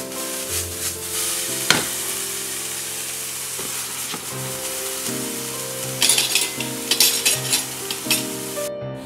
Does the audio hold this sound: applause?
no